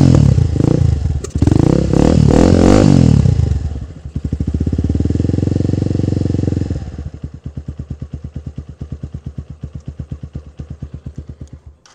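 A warm Lifan KP Mini motorcycle engine idles and revs, loud and close, with a couple of throttle blips before settling into a steady, pulsing idle with a clear rhythmic thump.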